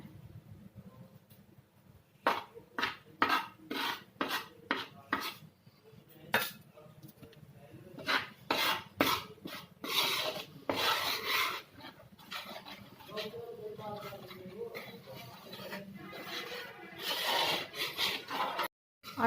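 Atta flour being stirred and roasted in melted ghee for panjiri, a spoon scraping and clinking against the pan in repeated bursts, with louder stirring and some background noise near the end.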